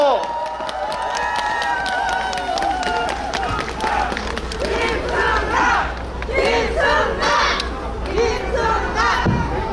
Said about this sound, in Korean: 뜨거운 박수로 환영해 주십시오